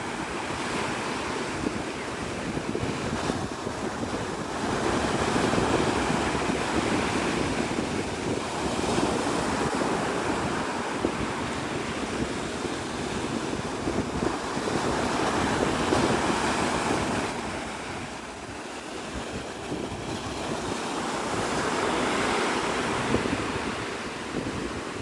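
Surf rolling onto Navarre Beach with steady wind buffeting the microphone, a loud continuous wash that swells and eases over time, no voices.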